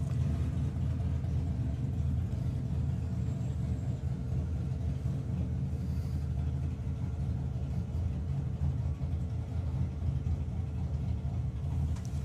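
Steady low engine rumble from a Ford Mustang drag car at a doorslammer drag racing event, a continuous distant idle-like drone with no clear revving.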